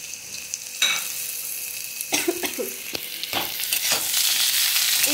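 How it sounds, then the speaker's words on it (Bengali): Boiled vegetable peels sizzle in a pan with lightly fried black cumin, a close crackling fry broken by clatters of stirring that grows louder and more hissing toward the end. "কালো জিরেটা আমি হালকা ভেজে নেওয়ার পর এবার আমি দিয়ে দেবো সেদ্ধ করে রাখা সব খোসাগুলো।"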